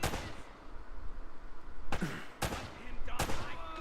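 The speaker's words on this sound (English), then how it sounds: "Alright, so there's another headshot." Gunshots fire during headshots in the video game Uncharted: Drake's Fortune, with three sharp, loud cracks spaced about half a second apart over a constant game background rumble.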